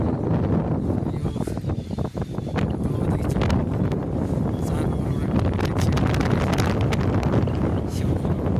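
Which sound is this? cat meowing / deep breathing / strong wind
strong wind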